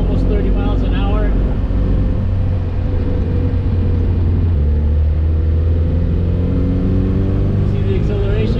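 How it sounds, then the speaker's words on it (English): A diesel-turbo Suzuki Samurai with an upgraded 4.9:1 transfer case accelerates in third gear toward thirty miles an hour, a loud steady engine drone with rising turbo whine, heard from inside the cab. "You can hear the turbo? Such a fun sound"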